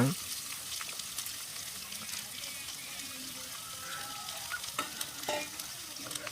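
Sliced onions frying in oil with popped mustard seeds, stirred in a pan for a village-style onion poriyal; a steady broad sizzle runs throughout with occasional scraping stir strokes, close and moderately loud, no talk.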